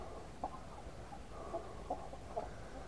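Chickens clucking inside a henhouse, soft and somewhat distant, with a few short clucks spaced over a few seconds above a steady low background hum.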